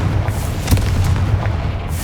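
A Confringo blasting spell in Hogwarts Legacy goes off as a deep booming explosion with a low rumble and a couple of sharp bursts, loud and close.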